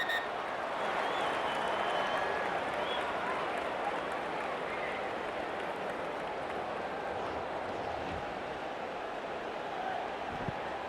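Home fans at a Samoa versus New Zealand rugby league test cheer and applaud, a steady wash of crowd noise and clapping heard from a distance throughout, with no letup.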